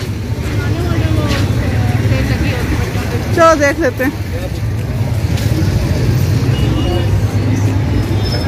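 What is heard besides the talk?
busy bazaar street traffic in Saddar, Rawalpindi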